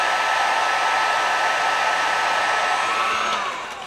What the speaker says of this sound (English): Turn on your heat gun.